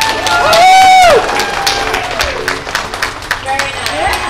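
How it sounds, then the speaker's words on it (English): Crowd at a dolphin show at Clearwater Marine Aquarium in Florida claps and cheers after a trainer's whistle, with scattered clapping and babble under a presenter's amplified voice. "So when you hear that whistle, you can give Nicholas a round of applause"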